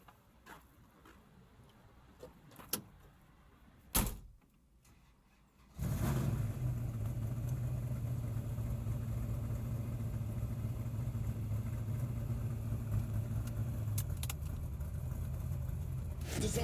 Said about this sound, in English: There's like, he starts the car.